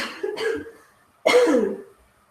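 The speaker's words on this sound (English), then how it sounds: "So I just need to cough." Two close, harsh coughs a second apart, the second louder and longer, in an otherwise quiet room.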